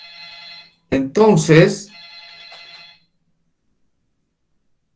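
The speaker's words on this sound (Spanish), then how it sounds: "Alguien llama por teléfono." A telephone rings during a university lecture on continuum mechanics, a steady electronic ring heard at first alone and then resuming after a man's brief spoken words cut in at moderate volume.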